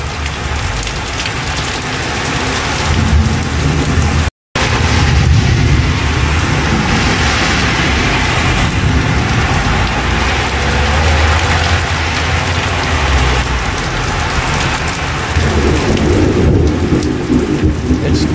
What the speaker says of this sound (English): The rain is coming down so hard right now.